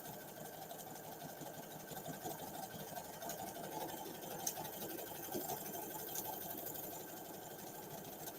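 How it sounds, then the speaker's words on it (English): A sewing machine runs a steady, faint, even whir while stitching, including a few reverse stitches, with no talking. "We're just going to do a few stitches in reverse."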